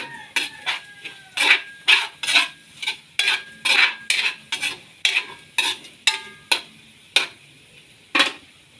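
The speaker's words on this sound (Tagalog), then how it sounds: "Tapos, gigisa na natin yan." Crab is sautéed in a pan for a home-cooked dish. A utensil strikes and scrapes the pan in rapid, sharp clinks that form a fairly steady stirring rhythm, close and clear with no talk.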